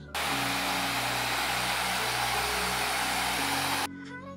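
An electric shaver buzzes steadily during a barber's fade haircut, a loud continuous close-up hum lasting nearly four seconds before cutting off abruptly.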